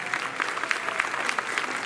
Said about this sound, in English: Y'all give a nice big round of applause